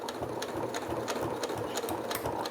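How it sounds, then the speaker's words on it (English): A Janome sewing machine back stitches down a strip of a multi-layered fabric face mask, its needle driving in a fast, even rhythmic chatter heard up close with no talking. "now I'm actually gonna back stitch"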